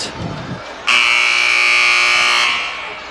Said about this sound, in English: The buzzer sounds, and we're almost set to go into the 4th and final period of play.